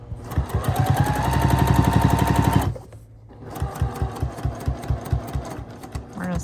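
A sewing machine stitches binding onto a quilt in a fast, steady mechanical chatter, pauses briefly, then resumes in slower, distinct stitch pulses.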